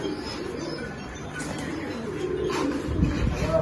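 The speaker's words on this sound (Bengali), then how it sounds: "আজকে আপনাদের সবাই আমি আমার ব্রিডিং কবুতর গুলা দেখাবো" Pigeons in a breeding loft coo softly and repeatedly at close range, with a faint chirp or two over a low, steady background.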